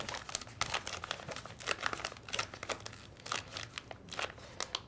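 A plastic piping bag is folded and crinkled by hand for meringue, giving close, fairly quiet bursts of crackling and crumpling in an irregular rhythm with no talk.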